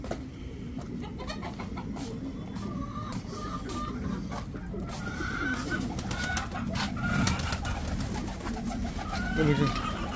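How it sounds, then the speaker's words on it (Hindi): Pigeons coo and flutter close by as they flock in to be fed grain, with soft clucking and rustling wings over a busy outdoor background. "देखिए सारे कबूतर"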